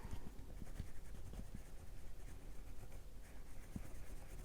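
Prismacolor colored pencil dragged across drawing paper, a steady close scratchy scribbling with quick back-and-forth strokes and occasional light taps, continuous and fairly quiet with no talking.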